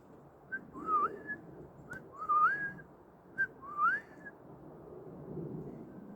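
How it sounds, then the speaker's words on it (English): A clear whistled call repeats three times at steady intervals, each a short rising, wavering phrase, over a quiet background hiss. "far off I hear a bird sing"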